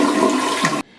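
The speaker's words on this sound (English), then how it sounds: "if you flush the toilet in the northern hemisphere, it turns one way in the toilet bowl." Toilet flushing in one loud, close rush of water that lasts under a second and then cuts off abruptly, with no voices.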